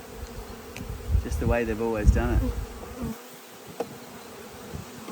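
A swarm of honey bees buzzes in a dense, continuous drone around a hive while a person talks over it nearby.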